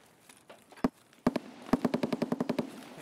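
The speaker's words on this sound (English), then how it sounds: "there's so many gunshots everywhere right now" Rapid gunfire in the video game Escape From Tarkov, a few separate shots followed by a fast burst of repeated cracks, fairly close and sharp.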